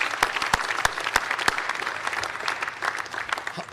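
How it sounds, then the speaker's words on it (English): Audience applauding a sponsor at a Touchdown Club awards event, a steady close wash of many hands clapping with sharp individual claps standing out throughout. "let's give Mr. Brown and Onward Reserve a round of applause"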